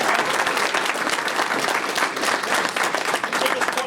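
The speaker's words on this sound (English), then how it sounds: "give him applause, John." Audience applause at a hackathon conference session, a full, continuous burst of clapping from a roomful of people that stays strong throughout.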